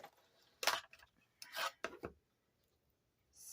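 A die cutter crunches through stiffened fabric and paper, giving a few short, faint crackling rasps in separate bursts, quiet and close with silence between them.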